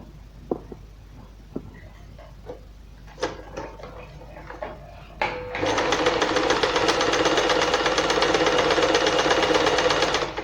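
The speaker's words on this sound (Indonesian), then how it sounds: "Oke, kita akan coba bikin jahitan lubang kancing" A Janome 1122 EX sewing machine starts up and runs steadily in a close, loud, even mechanical whir while stitching a buttonhole, preceded by a few faint clicks and handling knocks.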